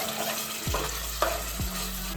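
Chicken biryani masala sizzles in a pan over full flame while a spoon stirs and scrapes, with a few short knocks of the utensil against the pan over a low steady hiss.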